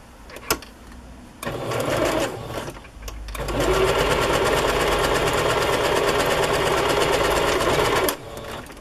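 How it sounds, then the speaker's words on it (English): A sewing machine stitches green rickrack onto fabric, starting with a brief burst, pausing, then running in a long steady whir before stopping, close and alone. "I want to sew that on to that piece."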